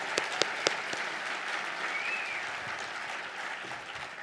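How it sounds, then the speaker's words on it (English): Audience at an awards gala breaks into steady applause, a few sharp claps standing out near the start before the clapping settles into an even, moderately distant patter that continues throughout. "I'll clap to that."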